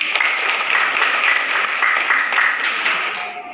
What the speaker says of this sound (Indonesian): Teman-teman yang sudah presentasi untuk moderator dan pemateri, kasih tepuk tangan dulu.